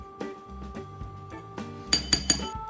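A spoon clinks against a bowl of oats and nuts in a few sharp taps, interspersed with softer scraping and stirring sounds close by.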